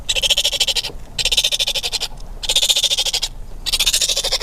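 Baby raccoons separated from their siblings call for their mother in four loud, chattering, trilling bursts, each about a second long with short gaps between, close by and with no talking.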